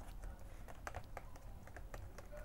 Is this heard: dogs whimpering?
no